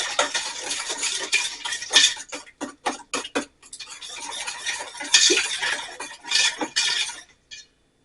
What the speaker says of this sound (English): Butter, brown sugar, and salt. And we'll mix that.